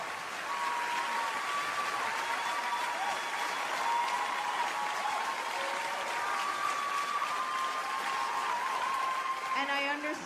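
Large audience applauding and cheering continuously, a dense steady wash of clapping with scattered whoops, loud and unbroken throughout.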